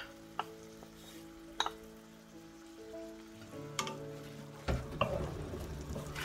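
Tuna and onions stir-fried in a pan, with a low sizzle, occasional utensil clicks and scrapes, and the frying growing louder toward the end.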